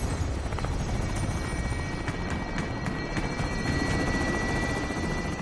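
An enemy attack helicopter in a PS4 military shooter game whirs steadily with continuous rotor chopping and engine drone, loud and sustained throughout with no pauses.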